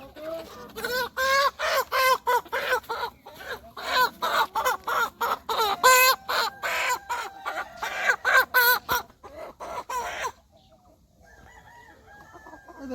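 Chickens at a poultry market cluck and crow in loud rapid bursts for about ten seconds, then fall to quieter background noise.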